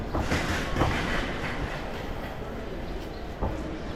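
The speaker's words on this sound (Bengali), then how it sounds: "এগুলো ঢাকা রেলওয়ে স্টেশন" A train at a crowded Dhaka railway station platform, a steady distant rumble of railway cars with occasional clacks under ambient platform noise.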